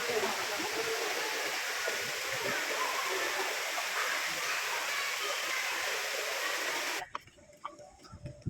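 Loud, constant roar of rushing water from a waterfall in Kenting National Park, Taiwan, filling the scene with dense hiss before cutting off abruptly near the end.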